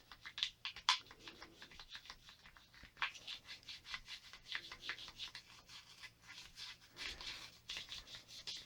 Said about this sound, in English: and then you just scrub it.